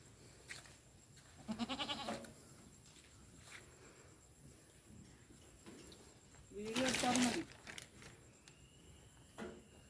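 Goats on a Kerala farm, a large Malabari buck, Canadian pygmy does and a pygmy-Malabari cross, give two short, fairly close bleats several seconds apart over a low, steady background.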